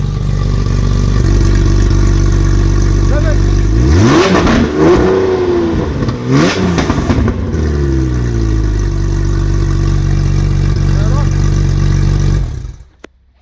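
Porsche 997 GT3 with a valved sport exhaust and competition headers, loud engine note idling then revving hard in two sharp blips around the middle before settling back to a steady idle, close up, and cutting off at the end.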